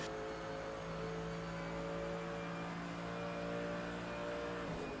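An LMDH race car in a racing video game, at the 24 Hours of Daytona, drones steadily at a distance with a constant whine, no voices present.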